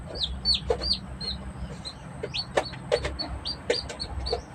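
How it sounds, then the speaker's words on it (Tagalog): Baby chicks peep in quick, high, bright chirps, several birds close by calling repeatedly and overlapping over a soft background rumble, with no talking. "hanap tayo ng malalagyan ng sisiw"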